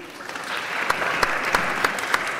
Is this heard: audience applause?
yes